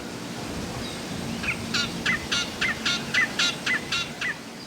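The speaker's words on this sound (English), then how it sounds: "We have a yellow, talkative, with brown wings bird right in front of us here." A talkative bird with a yellow body and brown wings calls in a run of about eight quick, evenly spaced chirping notes, fairly close, over a steady hiss of outdoor background noise.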